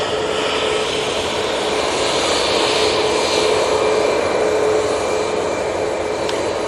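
An EasyJet jet airliner bound for Gibraltar runs its engines at Manchester Airport, a steady broad roar with a faint whine, moderately loud and unbroken throughout.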